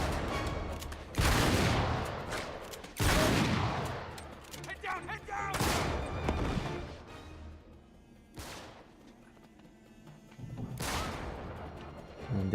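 Repeated bursts of gunfire in the video game Uncharted 3 Drake's Deception, heavy shotgun blasts and rattling rifle fire while shooting enemies, loud and close with short pauses between volleys.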